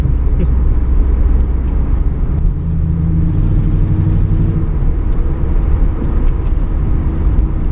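Second-generation Pontiac Firebird Formula V8 with custom dual exhaust, a deep, loping rumble heard steadily from inside the car while cruising, loud and continuous with no talk.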